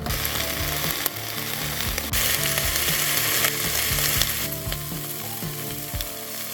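Food browns in a hot pan outdoors, giving a loud, continuous close sizzle and crackle with occasional scraping or stirring knocks, and no voices.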